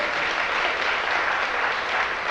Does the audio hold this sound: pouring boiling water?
no